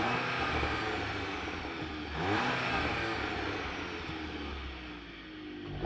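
A 2025 VW Golf R (MK8.5) with dual-clutch transmission revs its engine in neutral, heard from outside the car as a steady loud roar with a swell around the middle, no talking.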